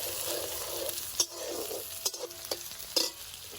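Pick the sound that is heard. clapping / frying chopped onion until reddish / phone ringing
frying chopped onion until reddish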